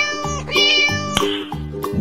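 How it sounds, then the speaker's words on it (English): A cat meows clearly and close by, a short series of bright, wavering meows heard alone against a steady rhythmic backing. "Cat."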